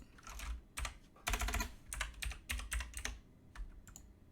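Typing on a computer keyboard, a quick irregular run of close, crisp key clicks in bursts with short pauses between them, heard alone at low volume.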